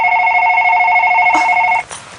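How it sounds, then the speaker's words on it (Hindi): A telephone rings in a home, a loud steady electronic bell tone that holds for nearly two seconds and then cuts off abruptly, followed by a brief faint rustle. "फोन की बेल"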